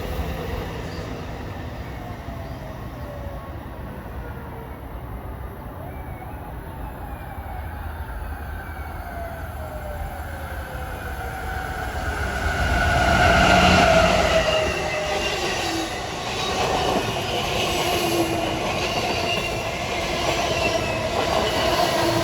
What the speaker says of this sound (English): here comes train 173 from Boston to Washington